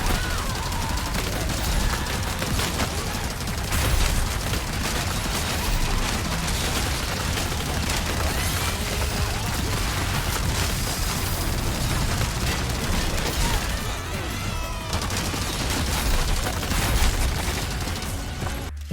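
Hank's machine gun fires in Resident Evil 4 Remake's Mercenaries mode as long unbroken bursts of rapid gunfire, dense and loud across the whole stretch, with explosions and game noise mixed in.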